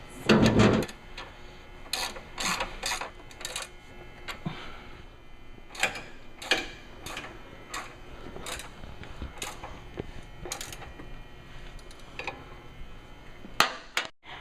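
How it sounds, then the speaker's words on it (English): Lower foot peg bolts are tightened on a motorcycle during a Lindby Custom highway Linbar installation, giving scattered close ratchet clicks and metallic taps at an uneven pace. "we're going to go ahead and tighten the lower foot peg bolts"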